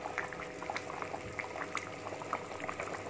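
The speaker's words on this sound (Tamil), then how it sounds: "குழம்பு நல்லா கொதிக்க விடுங்க." Steady bubbling and popping of thick Chettinad lentil dumpling curry (paruppu urundai kuzhambu) simmering in a pot, with small irregular bursts throughout and no voices.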